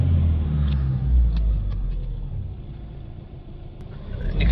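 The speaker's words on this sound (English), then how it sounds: "Let's give it a rev up and see what pressure we got." Diesel engine of an Iveco van, fitted with a DPF pressure sensor, rumbling low and steady at close range, with a slight rise in revs at the end and no talking.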